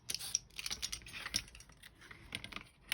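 Paper postage stamps being cut with a locked craft knife, a quick run of close, crisp scraping and clicking blade strokes in an irregular rhythm, with short quieter gaps between cuts.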